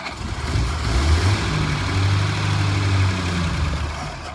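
A 1949 Packard engine running, a steady, close, low rumbling idle with slight surges, loud and continuous with no talking.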